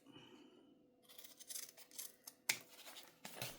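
Scissors snip away excess fabric along a backpack seam in a few short, crisp cuts, close and fairly quiet, with a sharper snap near the end.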